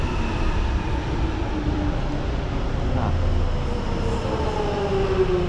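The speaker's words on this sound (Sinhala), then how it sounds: "අනිත් ට්‍රේන් එකක් එනවා." A London Underground Jubilee line train pulls into the Westminster platform with a loud, steady rumble and whining motor tones that shift in pitch, filling the station continuously.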